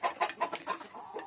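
Several chickens cluck in short, busy bursts while pecking feed from a bowl, close by and fairly loud, with the rhythm of eager birds jostling over food.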